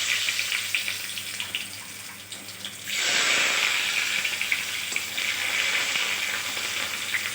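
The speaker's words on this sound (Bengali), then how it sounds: "এবার আমি প্রথমেই দিয়ে দিচ্ছি পেঁয়াজ কুচি।" Chopped onion frying in hot oil after whole spices, cooking for a prawn and bean-seed dal, a dense, steady sizzle that dips briefly and then surges louder as the onion hits the pan, close and continuous with no talk.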